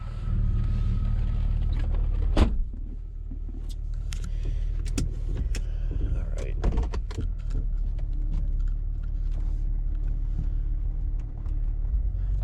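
A Jeep Cherokee XJ rolls along an off-road trail, its steady engine and cabin rumble continuous throughout, with occasional clunks, rattles and creaks from the vehicle over rough ground.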